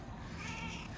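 A pet cat gives a short, quiet meow, a single drawn-out cry lasting about a second, with no talk over it.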